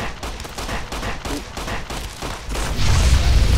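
Service rifle gunfire in the video game Fallout: New Vegas, a rapid run of sharp shots that swells into a louder, denser burst of firing near the end.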